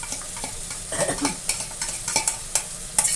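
Mint and ginger garlic paste stirred and fried in a pan: a steady sizzle under repeated scraping strokes of a spoon, close and clear, with no talk.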